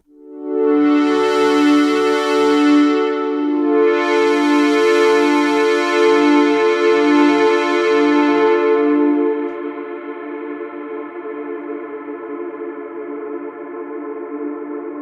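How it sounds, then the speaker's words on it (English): A sustained synth tone through the Crystalline reverb on the discoDSP Discovery Pro, re-struck once, then held by the freeze so a steady bell-like wash lingers at a lower level without fading. "Crystalline also has this super cool feature where you can do a freeze and hear the sound just linger forever."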